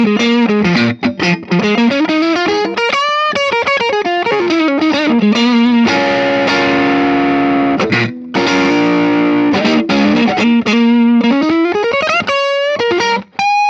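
Electric guitar driven through an Ibanez TS9 Tube Screamer, AnalogMan-modded, into a Vox AC30 at about two-thirds gain, playing loud, dense overdriven chords and sustained bends with brief gaps, no talking.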